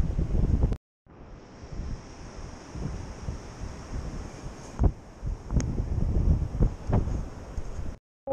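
Gusty wind buffeting the microphone, rough low rumbling that surges and drops, with sharp bursts of stronger gusts throughout.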